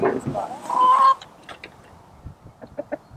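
Permaculture chickens at feeding time on a farm, with a burst of loud close clucking followed by scattered softer clucks and pecking sounds.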